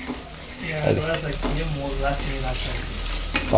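Onions sizzle in a pan as they turn golden for a chicken masala, with a steady frying hiss and occasional stirring scrapes beneath people talking.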